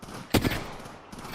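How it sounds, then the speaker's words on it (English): Gunfire in a squad-based video game, a single sharp burst of shots up close that quickly fades into low background game noise. "Taking fire. Firing."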